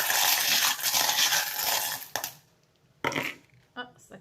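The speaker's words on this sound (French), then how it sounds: "Donc je vais retirer mes petits dés" Small dice and little metal charms clatter and clink as a hand sorts through them, starting with a dense rattling and then breaking into a few sharp separate taps and clicks.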